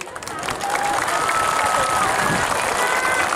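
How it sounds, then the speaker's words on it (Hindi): Applause and crowd noise at a village political gathering of a small regional party, a steady dense clatter of clapping with some voices and cheering mixed in, sustained throughout. "ताली मार सकता है"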